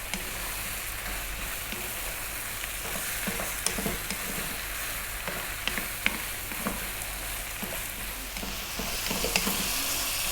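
Chunky ingredients for a ground beef macaroni meat sauce fry in a pan, giving an even, soft sizzle with light scraping and tapping as they are stirred often.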